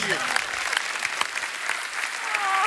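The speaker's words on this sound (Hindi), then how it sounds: "जोरदार तालियां हो जाए बब्बर फैमिली के लिए" A studio audience at a dance show claps loudly and continuously for the Babbar family, a dense, even burst of applause throughout.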